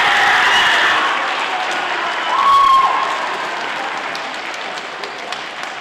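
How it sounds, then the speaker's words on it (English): An audience at a youth orchestra concert applauds steadily, a dense wash of clapping that carries on throughout and slowly thins, with a brief murmur of voices in the middle. "Parents, clap for yourselves."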